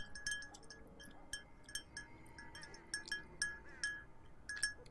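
Small, bright glass clinks and taps ring out irregularly, several light hits every second, fairly faint and close, with no speech over them.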